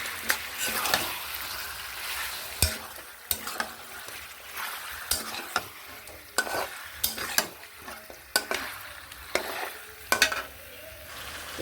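Ginger-garlic paste frying in a pan for a coconut-milk chicken curry, with a steady close sizzle broken by repeated scraping stirs at an irregular rhythm.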